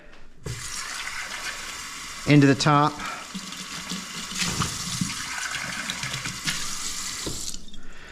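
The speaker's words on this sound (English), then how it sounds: "maybe about 55 grams of water, 55 milliliters of water going through there" Close-up water pouring and trickling through a coffee filter, about 55 millilitres, a steady running hiss for most of the clip, with a brief spoken phrase partway through.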